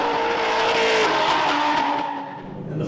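Drift cars slide through a drift battle, a Holden against a Ford, with a loud, sustained engine roar and tyre squeal continuing close by for the whole stretch, easing slightly near the end.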